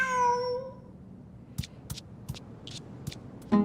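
A cat in Genshin Impact gives a clear, drawn-out meow up close, followed by a string of short ticking clicks and a brief sound at the end, no talk.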